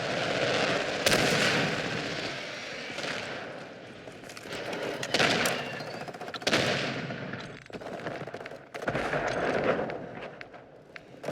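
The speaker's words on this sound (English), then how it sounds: "Friendly cruise missile inbound." Cruise missile strike in Modern Warfare 2, heavy booming blasts landing amid sustained rapid gunfire and crackling shots, loud and dense throughout with several big impacts rising over the battle din.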